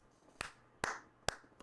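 Four slow, sharp hand claps spaced evenly, close and fairly quiet over a faint background, sounding like one person giving a few deliberate claps of approval.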